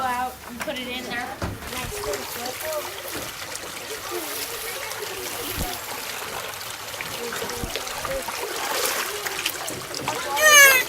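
Water splashes and trickles as it is dumped out outdoors, a steady wet spatter with a louder gush near the end, while children and adults talk over it.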